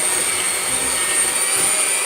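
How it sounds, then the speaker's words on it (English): An electric mixer creams butter and sugar together for a chocolate shortcrust pastry, giving a continuous loud, high motor whir with a soft churning beneath it. "Then I'm going to cream the butter and the sugar together."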